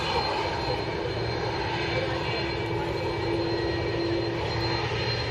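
An Aer Lingus passenger jet at Manchester Airport produces a steady, moderately distant engine roar with a sustained whine, continuous throughout at an even level.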